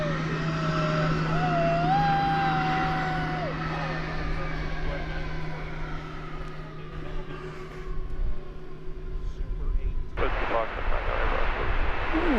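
An airliner taxis at DFW Airport with a sustained jet engine whine and rumble. A rising whine is heard partway through, then a louder roar swells near the end, and people talk over it.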